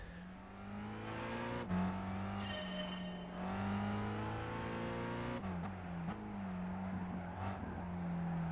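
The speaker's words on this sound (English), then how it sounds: "Can you hear the car driving there?" A car engine in a racing video game drones steadily with rising and falling pitch as it shifts gears, loud and continuous, with synthetic game-like engine tones throughout.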